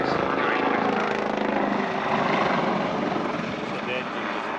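Helicopter flying a display routine at the Royal International Air Tattoo 2013, a loud, close, continuous rotor thrum with rapid blade chop sustained throughout.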